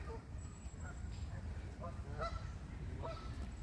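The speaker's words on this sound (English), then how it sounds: "Mostly Canada geese, but I can see some grey leg ones as well." Canada geese, with a few greylag geese, honk in a park on a rainy day, scattered faint calls against a low, steady background rumble.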